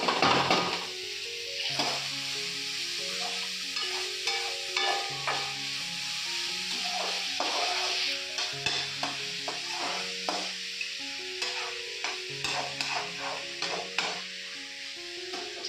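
Capsicum and onion stir-fried fast over full heat in a home kitchen pan, a steady loud sizzle carrying repeated scraping stirs and clinks of the spatula throughout, with no talking.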